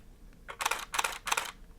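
Three distinct, slightly softened shutter actuations from a Nikon D850 in continuous quiet mode, spaced evenly and recorded up close with no talk.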